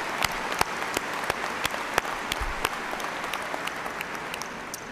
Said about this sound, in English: can we have a nice round of applause for the EKU Symphony Orchestra